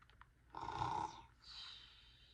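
A voice imitates snoring animals with a short nasal inhaled snore followed by a softer, airy exhale, quiet and close.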